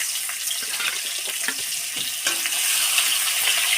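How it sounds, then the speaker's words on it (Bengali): Fish hisses and sizzles as it hits hot mustard oil in a kadai, a close, continuous crackle with small spits and pops that swells slightly louder near the end. "মাছটা তেলের উপরে দিয়ে দেবো"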